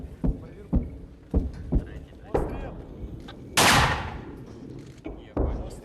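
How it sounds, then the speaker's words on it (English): A 60mm mortar fired by troops at a Ukrainian frontline position near Bakhmut, heard as several sharp, loud thumps in an uneven sequence, one followed by a longer rushing burst, with outdoor commotion between them. "They get coordinates for an enemy position and rush to fire a 60mm mortar."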